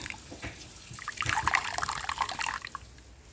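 Liquid is wrung by hand from a ground herbal paste mixed with coconut milk for a hair remedy, giving soft, close trickling and dripping squelches that swell in the middle and then taper off, with no voices.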